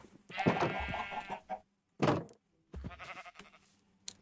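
Three separate bleating calls, each wavering and harmonic, come close and fairly clear from a sheep, with short silent gaps between them.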